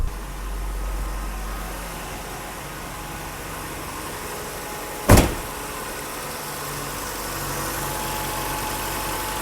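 A BMW E30 engine idles steadily with a low, even hum and a faint top-end valve tick, interrupted once by a short sharp knock midway.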